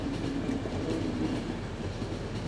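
A train rolls along in The Final Station, a steady low rumble with faint clickety-clack of wheels on track, loud and continuous with no voices.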